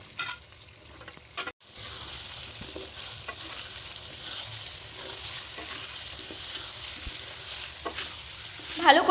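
Fried potatoes being stirred into thick chicken masala in a kadai, a steady close scraping and sizzling that runs throughout, with a brief dropout near the start and some louder clattering at the end.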